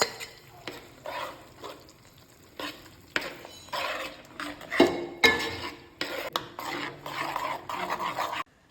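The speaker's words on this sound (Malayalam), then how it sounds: "ഇനി നമ്മുടെ ഈ തക്കാളി പേസ്റ്റ് ഒഴിച്ചു കൊടുക്കാം" Tomato paste stirred into a pan of fish curry masala for a Kalanji fish curry, with intermittent scraping and clinking of a spoon against the pot over a soft sizzle, in bursts through the clip.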